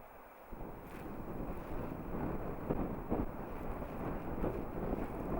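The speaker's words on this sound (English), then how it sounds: "To say it's a little bit windy today is the understatement." Strong wind buffets the microphone outdoors while painting at an easel, a steady roaring rush with gusts swelling and fading throughout.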